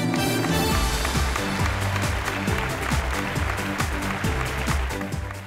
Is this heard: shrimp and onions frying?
no